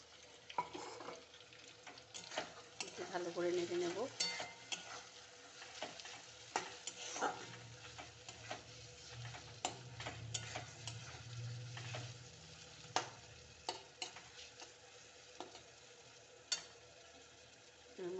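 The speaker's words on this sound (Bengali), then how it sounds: "টমেটো দিয়ে একটু নাড়াচাড়া করে এবার একটু নেড়ে চেড়ে এর মধ্যে আমি আদা আর রসুন কুচি দিয়ে দেবো" Tomato, ginger and garlic are stirred and fried in a pan for a spicy fish curry, with a steady low sizzle under repeated spoon scrapes and taps against the pan, close and fairly quiet.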